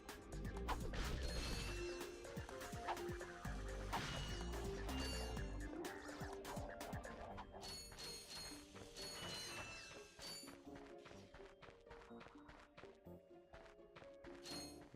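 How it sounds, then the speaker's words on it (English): Dense metallic clanks, whirs and ratcheting clatters from wrench throwing in the Ratchet and Clank video game come in rapid overlapping bursts, loud at first and then thinning into scattered hits. "The wrench throwing in this game."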